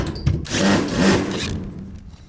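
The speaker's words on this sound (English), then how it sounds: "So now I'm just going to go along and undo all those screws." A power drill whirs in two short, loud bursts close by as it backs screws out of a metal gutter on a garage.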